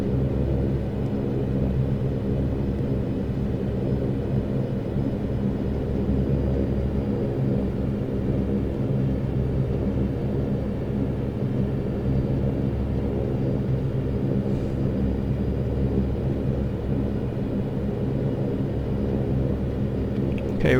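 Saab 340 twin turboprop engines in X-Plane 11 building power on approach, a steady low droning rumble with layered engine tones, constant and even throughout with no voices.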